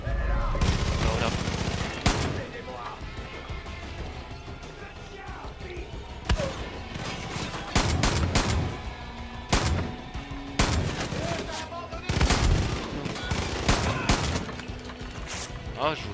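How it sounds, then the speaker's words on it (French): Shotgun blasts from the video game Far Cry 5, several loud booming shots at irregular intervals over a busy game soundscape with music and effects. "je voulais voir si un fusil à pompe ça allait aussi loin que ça"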